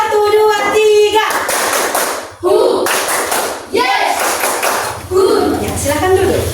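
A class of children clapping in a one-two-three pattern, sharp hand claps in short rhythmic bursts with a teacher's voice and kids' voices calling out between them.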